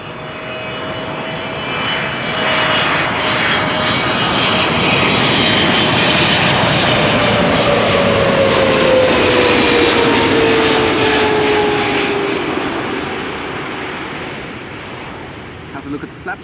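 Boeing 777 jet arriving from Shanghai and landing at Amsterdam Schiphol, a loud sustained engine roar with a whining tone that swells to a peak and fades as the aircraft passes, with wind noise around it.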